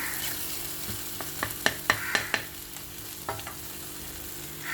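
Mutton kheema being stirred and mixed in a pan, with a spoon scraping in a run of sharp clicks over a soft steady sizzle, close and moderately loud, no voices.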